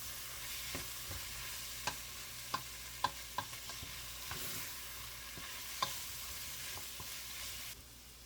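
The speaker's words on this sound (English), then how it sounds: "add all of the other ingredients along with any juices and give it a good jostle" Japanese lamb curry ingredients sizzle steadily in a hot pan while a utensil scrapes and stirs, producing scattered sharp clinks and pops over a continuous close frying hiss.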